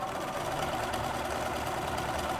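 A sewing machine runs steadily while backstitching and then stitching stretched fabric for an instrument bell cover, giving a continuous close mechanical hum with no talk over it.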